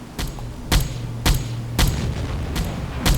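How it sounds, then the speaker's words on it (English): Ships exploding in the naval video game Silent Hunter 4, heard as a run of loud, deep booms that recur roughly every half second to second, each with a sharp onset and a rumbling tail, over a constant low engine drone. "Ooh, and that one just exploded. I heard the explosion"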